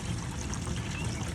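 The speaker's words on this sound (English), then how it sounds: "So here it starts to flow and goes through the tube and into the tank." Gray waste water rushes steadily through a hose into a portable dumping tank, a continuous close, loud, even gush with no pauses.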